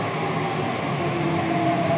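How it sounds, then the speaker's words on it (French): A Budapest metro train rumbles steadily, with a dense, continuous roar of wheels and carriage noise filling the underground station. "Nous voilà dans le métro"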